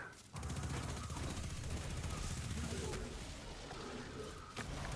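Rapid gunfire in the video game Destiny 2 comes as a dense, continuous stream of loud shots that barely pause for several seconds.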